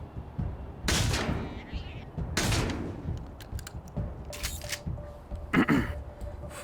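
Gunfire in the co-op game Wasteland 3: several loud, sharp broadband shots land in separate bursts about every second and a half, with a voice talking briefly between them over a low rumbling game backdrop.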